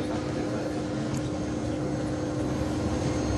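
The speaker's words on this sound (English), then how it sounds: "We're about to start taxiing to the runway." Steady, loud broadband engine roar of an airplane taxiing toward the runway, continuous and even throughout with no talk.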